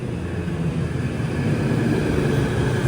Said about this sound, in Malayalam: ട്രെയിൻ ഇതാ കടന്നു വരികയാണ്.